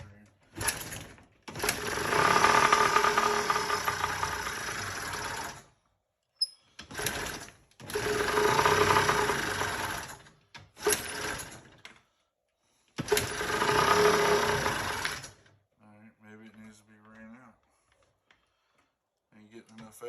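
A Yamaha PW50 two-stroke engine with its carburetor being tuned, revving loudly in three sustained, buzzing bursts separated by short pauses, then dropping to a faint, uneven idle.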